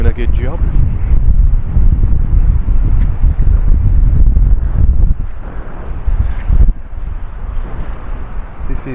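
Strong wind buffets a microphone on a windy North Sea beach at Chapel St Leonards, a loud continuous low rumble with gusty surges throughout and a brief dip near the end.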